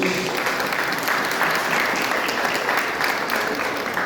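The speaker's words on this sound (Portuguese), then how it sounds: "Uma salva de palmas para os irmãos" A church congregation breaks into warm, continuous applause for fellow members, many hands clapping close and full for the whole stretch.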